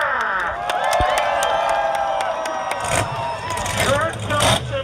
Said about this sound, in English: How many fans are cheering for the Jester?